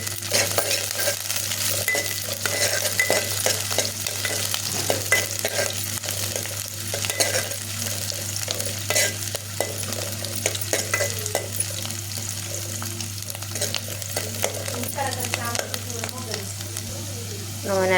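Four green chillies sizzling in hot oil as a tempering for ridge gourd curry, a steady loud frying hiss close by with occasional stirring scrapes and utensil clinks.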